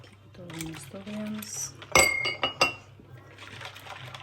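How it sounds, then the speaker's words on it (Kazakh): A glass of boiling water is poured into milk pancake batter in a kitchen, with a brief splash and clinks of glass and utensils, close and moderately loud. "Оның үстінен 1 стакан қайнап тұрған суымызды құйып"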